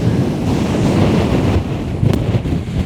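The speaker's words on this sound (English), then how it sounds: "Oh, that wind." Strong wind at Cluther Rocks buffets the microphone with a loud, continuous roar and rumble, plus a few sharper gusts near the end, with no talking.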